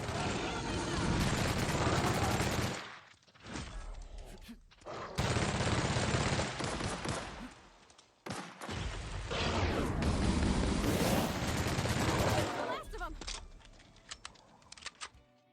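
A weapon test-fired at enemies in the video game The Outer Worlds: long stretches of loud, dense rapid fire with brief pauses between bursts, heard alone.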